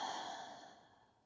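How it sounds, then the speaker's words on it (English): A slow, deep exhale during a yoga breathing round, a soft airy sigh that starts fullest and fades away over about a second, close and alone. "Big inhale, big exhale."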